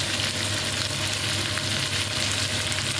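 Vegetables stir-fried in a pan, giving a loud, constant sizzle and crackle with soft stirring movement throughout, close and without speech.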